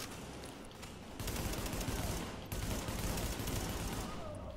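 Sustained weapon fire in Tom Clancy's The Division, a dense, loud burst of repeated shots continuing through the whole stretch with a brief break in the middle, no voices.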